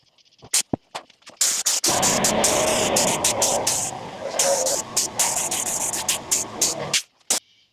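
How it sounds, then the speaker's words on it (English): A steady hiss of white aerosol spray paint on a Mazda Miata headlight bracket runs for about five seconds, close by, with clicks and short bursts before and after. "So for now, just going to spray this white and keep moving."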